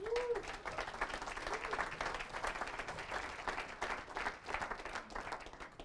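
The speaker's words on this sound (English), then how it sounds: "give Gary a huge round of applause" An audience claps and applauds steadily at a real estate training event, a dense, sustained wash of clapping hands throughout with no pause.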